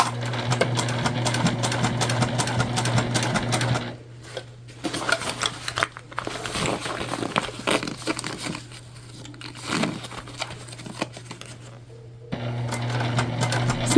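A domestic sewing machine stitches a recycled-fabric shoulder bag across bulky seams, running in a steady loud mechanical whir for several seconds, slowing to softer uneven bursts and fabric handling, then speeding up again near the end.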